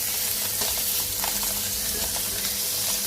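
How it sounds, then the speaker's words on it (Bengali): Koi fish frying in a pan on a flat griddle, a dense continuous sizzle with faint crackles, close and steady with no talking. "বাকি মাছগুলো একইভাবে ভেজে নিব"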